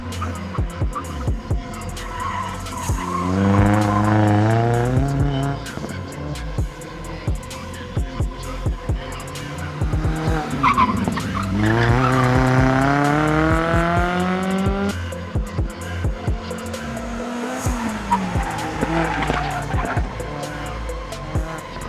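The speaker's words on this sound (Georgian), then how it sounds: "პირველი გარბენი არის ახლა ამ ახალი მანქანით" Rally car on a sprint-stage run, engine rising and falling through gear changes with skidding tire noise, close and loud throughout.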